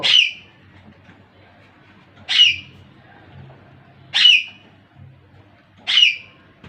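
A caged pet parrot gives four loud, harsh squawks at regular intervals of about two seconds, close by, with quiet room murmur between calls.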